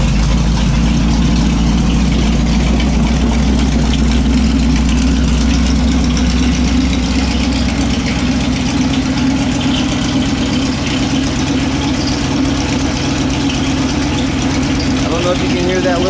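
A Boss Hoss motorcycle's large engine idles steadily and loudly up close, a deep continuous rumble with a faint high chirping from a worn throwout bearing running through it, with no voices.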